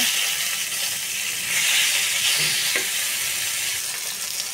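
Hilsa fish sizzles and crackles steadily in hot oil in a pan, a loud, continuous frying hiss with no one speaking.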